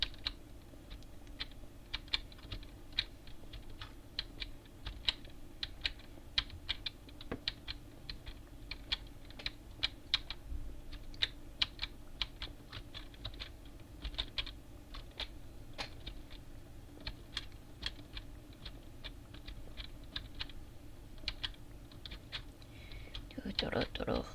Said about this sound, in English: It's a clicky clacky keyboard.